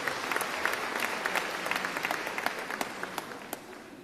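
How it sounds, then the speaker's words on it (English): Steady applause from an audience at an event honouring the 2022 matric class, a moderate, even wash of clapping with a few sharper individual claps standing out. "May I share a big applause?"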